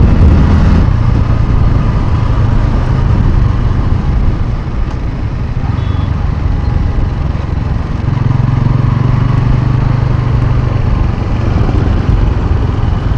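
A motorcycle rides along a road at night near a city bypass, its engine a loud, steady close-up drone with subtle shifts in pitch as it cruises, with no talk.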